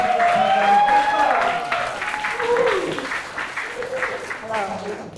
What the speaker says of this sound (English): can we please give a big round of applause for Cynthia?